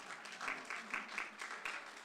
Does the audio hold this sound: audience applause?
yes